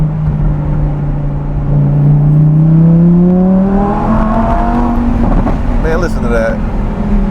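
A sports car engine revs up, its loud, close note climbing smoothly in pitch before a quick upshift, while someone talks over it.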